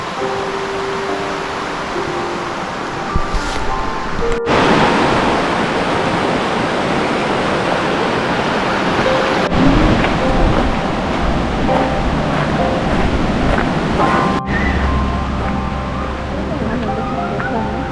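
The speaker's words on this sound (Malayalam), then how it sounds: "ബാക്കിൽ നല്ല ബ്യൂട്ടിഫുൾ ആയിട്ട് വെള്ളം ഒഴുകുന്നുണ്ട് കേട്ടോ" Steady broadband rush of flowing water from a stream near a waterfall fills the whole stretch, loud and continuous.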